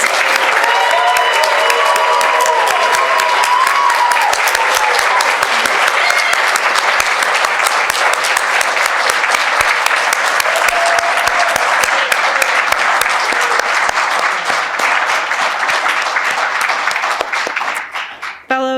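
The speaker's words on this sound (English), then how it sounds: "Please join me in giving them a grand round of applause." Audience at a leadership academy graduation celebration giving the graduating fellows a long, loud round of applause, dense sustained clapping with some cheering voices in the crowd, thinning toward the end.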